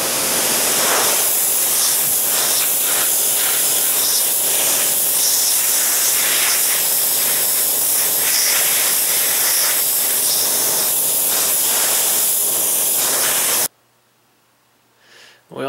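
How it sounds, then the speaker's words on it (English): A pressure washer sprays a boiled whitetail deer skull, giving a loud, steady hiss that runs unbroken for about fourteen seconds before cutting off abruptly. "pressure washer should take most of it off"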